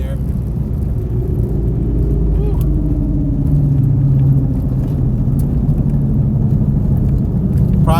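Ford Mustang engine droning under load at very high speed, a steady loud low rumble and whir with a shifting pitch as the transmission slips, continuous throughout.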